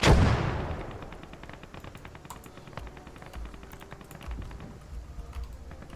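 An embedded machine gun fires in the WWII strategy game Blood Red Snow: a heavy burst booms at the start, then scattered distant cracks and thumps of battle continue at a lower level.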